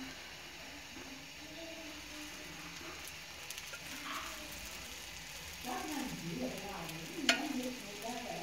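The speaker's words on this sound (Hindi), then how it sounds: "अब मैं ऑयल लगाऊंगी।" Oil sizzles on an aloo paratha frying on a griddle, a soft steady crackle that swells with louder frying bursts and scraping near the end.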